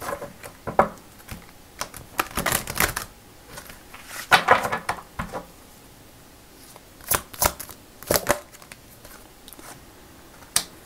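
Tarot cards being handled and drawn from a deck during a reading: dry papery shuffles and flicks come in short bursts, with quiet pauses between them, close and moderately loud, and no talking.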